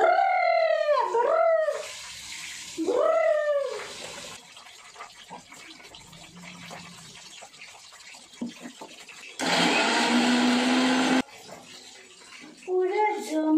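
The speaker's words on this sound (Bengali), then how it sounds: "এখন হবে মশলা পেশাই।" An electric blender grinds spices in a home kitchen, running in loud whirring bursts: a couple of short pulses early on, then a longer steady grind near the end, with people talking between the bursts.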